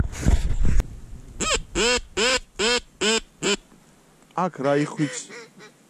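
Ducks quacking during a late-season duck hunt, a run of about six loud, evenly spaced nasal quacks followed by a quicker burst, close by, with a short noisy rustle at the start; the calls could be a hunter's duck call.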